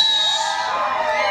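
An audience screaming and shouting at a Samoan slap dance performance at Downtown Disney, a loud continuous wall of high-pitched yells and cheers from a crowd including children, with no pause.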